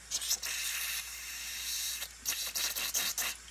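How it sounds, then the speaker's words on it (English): Close bursts of aerosol cleaner spray hiss into the holes of a 10 HP Tecumseh snowblower engine's carburetor in several short blasts, with pauses between them and one longer sustained spray, no talking. "So we're gonna spray into here first."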